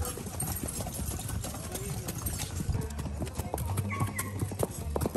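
Horse hooves clip-clop in a steady, fairly close rhythm on a rural road in São Félix de Minas, with an engine hum and people talking underneath.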